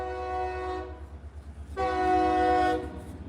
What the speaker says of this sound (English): The train's coming by.